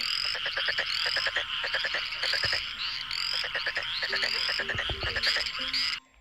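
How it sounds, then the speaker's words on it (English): Dense, rapid frog croaking repeats in rhythmic bursts, loud and close, continuing without pause until it cuts off near the end. "Frog."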